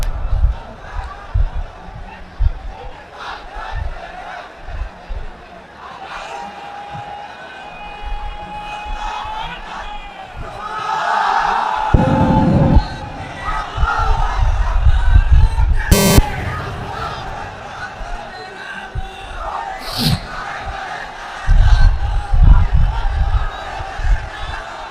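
A large crowd at an Islamic religious sermon gathering shouts a takbir chant in loud, rising bursts, with roaring voices and cheering swelling repeatedly throughout.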